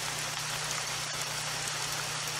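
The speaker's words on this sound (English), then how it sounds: "Looks like it's going to keep raining." Rain falls steadily in a hunting video game, a constant even hiss of drops with a low droning hum beneath, with no voices.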